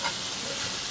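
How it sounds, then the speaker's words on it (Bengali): Previously fried potatoes sizzle briefly in hot spiced oil, giving a dense, continuous frying hiss up close. "এখন আমি ভেজে রাখা আলুটা ভেজে দিব।"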